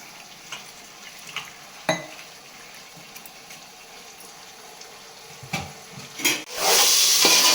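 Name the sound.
chicken frying and sizzling in a pan for biryani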